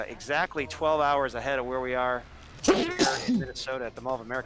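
A single sharp sneeze bursts out partway through, loud and close, between stretches of someone speaking.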